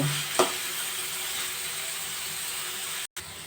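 Semolina with carrots, beans and capsicum frying together in a pan gives a steady, close hiss of sizzling that holds evenly throughout, broken by one brief cut near the end.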